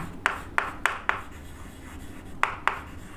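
Chalk or marker strokes on a board during an ideal transformer lecture: six short taps and scrapes, four in quick succession then two more after a pause, close and fairly clear with no talking.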